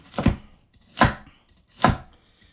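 Carrots diced small with a knife on a cutting board for a pasta bolognese: three sharp, evenly spaced chops, close and loud, with silence between them.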